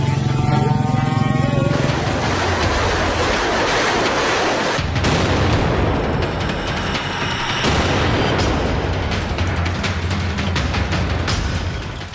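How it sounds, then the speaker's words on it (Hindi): An FPV suicide drone strikes during the Thailand–Cambodia conflict, with a loud motor whine giving way to sharp explosive booms and blasts, heard in news footage with no one speaking over it. "ये FPV ड्रोन है जिससे अटैक किया जा रहा है"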